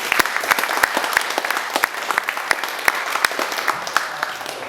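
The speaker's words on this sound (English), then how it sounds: "Shouldn't clap me" Applause at a community meeting in Leeds, a dense burst of many hands clapping in a room, steady and moderately loud throughout with sharp individual claps standing out.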